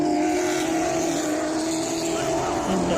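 Sportsman stock cars race at Bowman Gray Stadium, a steady loud roar of engines sustained throughout with a commentator talking over it.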